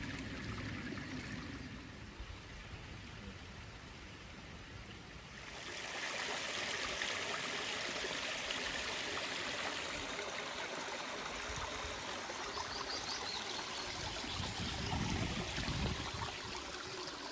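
Ewden Beck, a moss-lined stream running low, flows and trickles nearby in a continuous gentle rush that grows a little fuller partway through, with no one speaking.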